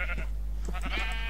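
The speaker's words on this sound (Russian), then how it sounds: "Ну, барашки. Барашки. Иди сюда." Sheep bleat in the Minecraft video game: a few short, wavering bleats come one after another, fairly close, over a steady low hum, with no talking.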